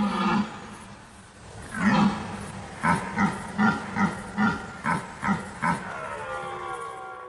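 Red deer stags bellowing in a forest during the autumn rut, a rough roar followed by a run of about eight rhythmic, evenly spaced grunting bellows, loud and close with a faint echo.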